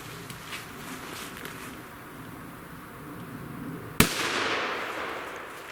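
A Kometa PP1 firecracker goes off outdoors with one sudden, loud crack after a stretch of quiet ambience with faint insect buzz, and a reverberant tail rolls on afterward.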